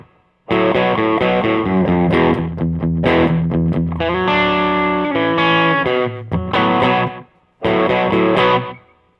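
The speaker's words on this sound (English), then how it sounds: "rhythm slapback sound." An electric guitar run through a rhythm slapback effect from a MIDI foot controller setup plays driven, slightly distorted chords and riffs with short repeats. The playing is loud and steady, with two brief pauses, and no one speaks.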